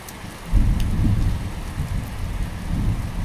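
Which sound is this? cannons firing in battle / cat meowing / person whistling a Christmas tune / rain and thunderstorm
rain and thunderstorm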